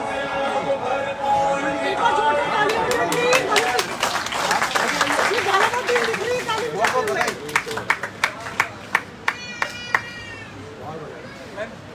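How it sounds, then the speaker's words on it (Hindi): Audience applause at a Rakthkosh Foundation Day award ceremony, a dense burst of clapping that builds over a spoken announcement, then thins out into scattered individual claps toward the end. "जोरदार तालियां टीम हनुमानगढ़ के लिए।"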